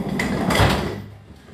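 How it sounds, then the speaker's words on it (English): A door swings and thuds shut in a home during a workout session, one broad dull impact with a rumbling low tail, close and fairly loud, followed by quieter room noise. "You just slammed the door on me."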